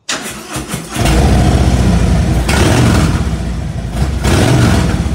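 Harley-Davidson Road Glide motorcycle with a new headpipe fired up and revved loud and close, a deep throaty roar rising in bursts over a rumbling idle.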